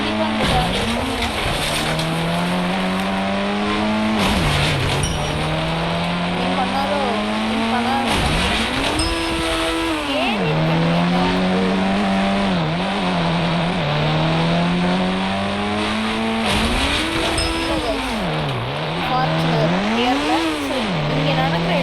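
A car engine in the video game Indian Bike Driving 3D revs loud and close, pitch climbing and dropping through repeated gear shifts, with tire squeals and steady game noise throughout.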